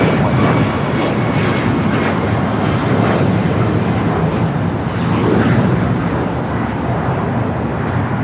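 A jet airliner takes off from runway 25 right at LAX, its engines roaring loudly and steadily as a broad, continuous rumble throughout.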